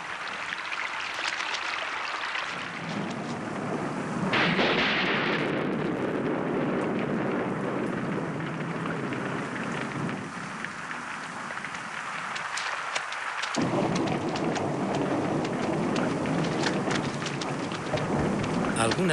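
Heavy rain pours steadily during a thunderstorm in chimpanzee forest habitat, with a deep roll of thunder rumbling through the downpour before the rain's hiss shifts and swells again near the end.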